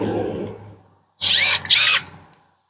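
Milwaukee M12 cordless pruning shears cutting through a small branch give a loud motorised whir lasting just under a second with a brief dip midway, after a quieter low hum, with no talking.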